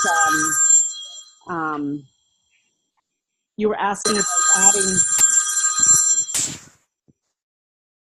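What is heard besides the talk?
phone ringing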